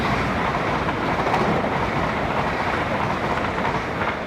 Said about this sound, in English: Oh, hang on, train.